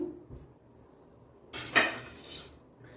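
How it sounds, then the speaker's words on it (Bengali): Chunks of papaya and potato drop into a metal pressure cooker, a short, bright clatter and scrape after a quiet stretch, close and moderately loud, with no talking. "প্রেসার কুকারের মধ্যে এই পেঁপে আর আলুটা দিয়ে দিলাম।"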